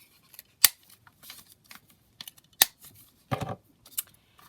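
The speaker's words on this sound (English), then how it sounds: "I'm going to actually cut it flush rather than have the longer edge" Scissors cutting paper while making a handmade journal, a few sharp, distinct snips spaced apart with small rustles of paper between them, close and clear.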